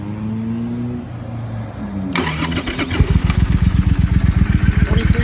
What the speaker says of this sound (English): Go get it fired up here so you can hear the exhaust.